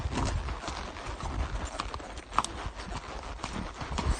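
A trail horse walks along a rocky mountain path on a loose rein, hooves clip-clopping in a steady, uneven rhythm close by with soft outdoor background.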